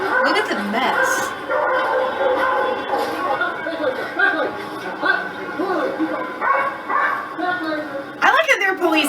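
Police dogs at a riot in the Netherlands bark, yip and whimper in excited bursts through a noisy street scene, with people talking and chuckling over the commotion.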